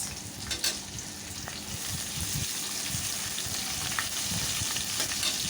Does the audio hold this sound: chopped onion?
yes